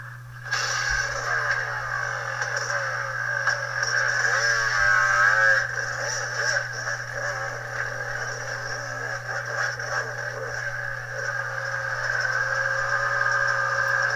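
A Yamaha YZ250X two-stroke off-road motorcycle engine on a hard enduro trail in East Tennessee, a steady droning run with slight rises and falls in revs, moderately close and continuous for the whole stretch, with no talk.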